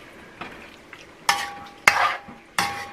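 Chicken with fennel stir-fried in a pan, with three loud scraping stir strokes over a steady low sizzle and a couple of softer clinks, close and without talk.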